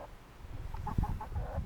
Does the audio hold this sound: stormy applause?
no